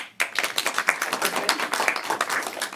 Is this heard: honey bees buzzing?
no